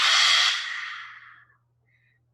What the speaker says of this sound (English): we're going to bring our hands around our mouth, cup our mouth, and we're going to exhale audibly